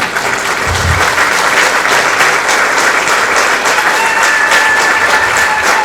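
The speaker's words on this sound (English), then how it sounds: "give a resounding and reverberating round of applause for our lecturers for the work well done" A large audience at a medical induction ceremony claps in sustained, dense applause for lecturers, loud and steady throughout with no pauses.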